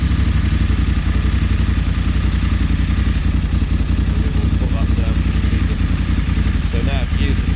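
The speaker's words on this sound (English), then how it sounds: "I'll start the bike up." A BMW F850GS motorcycle with a throttle fault runs at a steady idle, its low, even engine rumble loud and continuous throughout, with a faint clatter on top.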